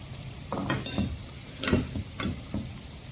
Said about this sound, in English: Now time to add the rice in the vegetable on a lower flame.